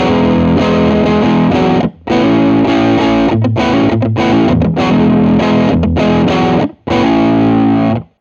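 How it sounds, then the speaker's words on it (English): Distorted electric guitar on a Teruya guitar's P90 neck pickup, playing chords and ringing open-string notes, loud and continuous with a couple of brief pauses, no voices. "So this is the P90 neck setting."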